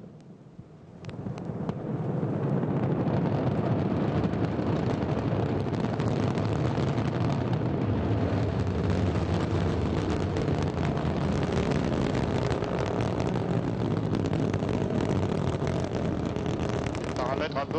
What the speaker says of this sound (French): Ariane 5 a décollé